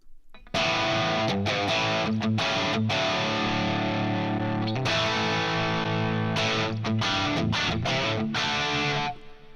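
Distorted electric guitar played through a Fractal cabinet simulation with a ribbon microphone at middle distance, chugging rhythmic chords with short stops, loud and continuous for about nine seconds with no voices.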